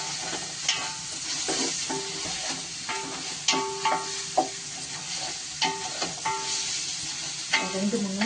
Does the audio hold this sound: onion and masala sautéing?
yes